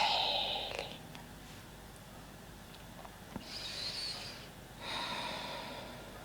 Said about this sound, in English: exhale. Air is coming out.